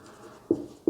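Chalk or a marker writing on a board makes a few soft scratchy strokes and two sharper taps up close in a quiet classroom.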